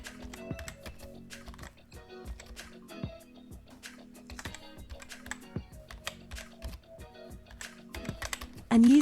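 Card and billing details are typed on a computer keyboard, a steady close run of clicky keystrokes with brief pauses, no voice over it.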